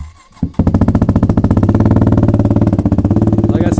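A motorcycle fires up after sitting unstarted for over a month, catching after a brief crank and settling into a loud, steady, rapidly pulsing idle close by, with no talk over it.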